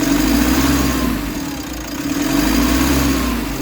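A 2020 Mitsubishi L300 engine, reported as low on power with its check-engine light on, runs at a steady, loud, close idle with slight swells in level and no talk over it.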